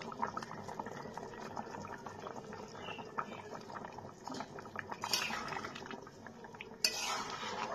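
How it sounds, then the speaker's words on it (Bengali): An egg and cauliflower curry simmers in a pot with a soft steady bubbling, quiet and close, with a few light clinks of a utensil against the pot. "ডিমটা দিয়ে কিছুক্ষণ আমি ফুটিয়ে নিচ্ছি।"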